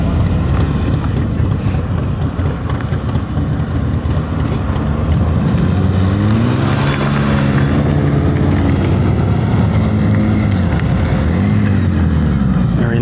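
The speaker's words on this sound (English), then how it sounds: "And a throttle blip." A motorcycle engine rises in a quick throttle blip during slow-speed riding practice outdoors, the revving tone sweeping up and falling back under steady loud wind buffeting on the microphone.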